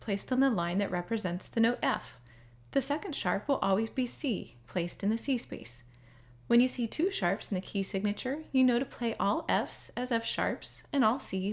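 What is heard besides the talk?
No everyday noises stand out.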